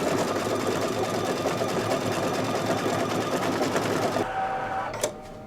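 An embroidery machine stitches a tree pattern on a Halloween placemat owl block, a fast even mechanical chatter that runs loud and steady, then cuts off abruptly near the end with a brief clunk and a faint tone.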